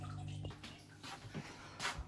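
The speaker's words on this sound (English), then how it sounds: "Wait, I can just take some tank water out and use that." Water scooped out of a house plant grower's fish tank, a few soft sloshes and trickles at close range with faint drips, no talking.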